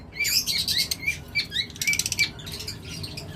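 Caged pet birds, a pair sold as breeding stock, chirp in quick, high, repeated tweets against a steady background murmur. The calls come in bursts across the whole stretch, fairly close but moderate in volume.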